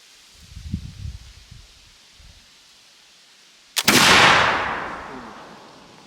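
A flintlock muzzleloader fires a standard load of number 6 lead shot behind nitro card, cushion wad and overshot card: one loud, sharp blast that rolls off in a long fading tail, preceded by quiet handling noises.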